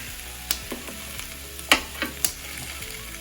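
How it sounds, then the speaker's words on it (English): Onions and jalapeños hit a hot Ninja Foodi Grill and sizzle loudly up close, with a few sharp utensil clacks and scrapes against the grill plate as they are stirred. No one talks. "Oh yeah, you're gonna hear that sizzle for sure."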